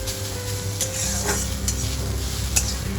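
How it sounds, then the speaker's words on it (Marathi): Finely chopped large onions stir-fried in a pan, a steady close sizzle with scraping stirs and soft clinks of a utensil against the pan, with no talking. "अगदी काळे होतील तोपर्यंत हे कांदे परतून सारखे भाजायचे आहेत."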